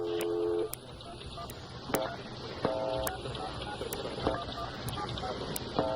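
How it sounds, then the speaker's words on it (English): A string of touch-tone telephone dialing beeps punches out a phone number on comedy radio, the tones short and evenly spaced over a low background. "You can figure out all the tones. You can figure out what his phone number is, right?"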